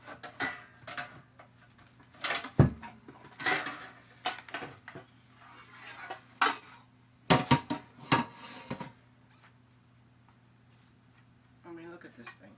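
Clanks and knocks from handling a big pot and its oversized lid, used for steaming clams and cooking greens, with several sharp metallic hits and clatters spread through the clip and a person talking in between.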